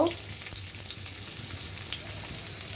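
Garlic hits hot oil in a pan for dal tempering, giving a steady, close hiss of frying that carries evenly on its own for a few seconds.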